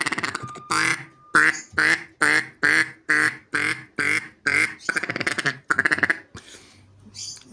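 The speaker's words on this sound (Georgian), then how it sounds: "ხრინწიანი იხვისთვის დამახასიათებელი ხმა აქვს." A hand-blown duck call made by a hunter, light to blow, gives about ten raspy, duck-like quacks in a steady rhythm, loud and close, with no talking.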